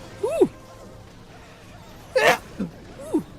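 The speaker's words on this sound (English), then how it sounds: "I'm gonna sneeze." A person sneezes close up, with sharp breathy bursts and a short intake of breath before, loud against a quiet background.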